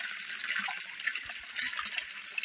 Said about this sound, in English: It'll suck dry the waterfall, and then we're losing, and then it goes down about a couple inches.